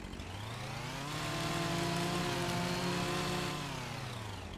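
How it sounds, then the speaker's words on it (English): A Husqvarna chainsaw cutting trees in Farming Simulator 25, its engine droning steadily and rising into a louder revving pitch before easing back, close and continuous with no speech. "I did get a chainsaw."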